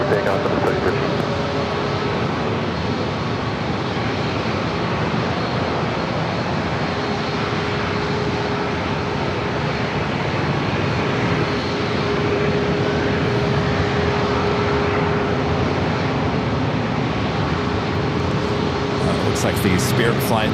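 A Southwest airliner takes off from runway 27 at San Diego airport, its engines a steady distant roar that holds throughout, with a faint voice underneath.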